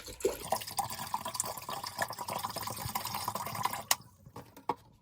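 One liter of water is poured over unrinsed figs and grapes to make wild wine, a continuous splashing, trickling pour that stops near the end, leaving a few faint drips.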